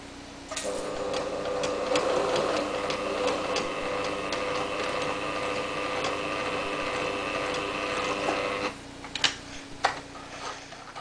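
A sewing machine runs steadily for several seconds with a rapid mechanical whir and ticking, then stops, followed by a few soft clicks and handling sounds.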